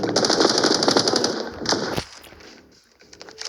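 An M4 rifle fires in the mobile shooter game Standoff 2, a loud, rapid automatic burst for about two seconds that cuts off abruptly, followed by quieter in-game ambience.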